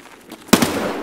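A single sharp grenade blast in a video game firefight, sudden and fairly close, with a short crackling tail after the bang.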